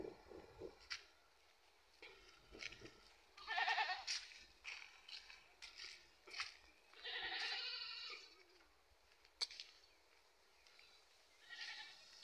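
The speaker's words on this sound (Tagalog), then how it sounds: "Yan po yung kambing niya." A goat bleats several times in short, wavering calls, some louder and closer than others, with quiet pauses between them and no talking.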